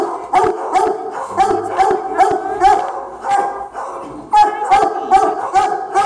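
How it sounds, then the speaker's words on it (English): A dog barks repeatedly and breaks into howling yips, loud and close, with the calls coming in a steady rhythmic series throughout. "You got a dog barking at you over there."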